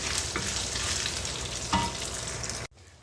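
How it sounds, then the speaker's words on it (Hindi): Edible gum (gond) frying in hot ghee, a steady dense sizzle with light stirring scrapes that runs without pause until it cuts off sharply near the end. "घी गर्म होते ही इसके अंदर हम डालेंगे 100 ग्राम गोंद"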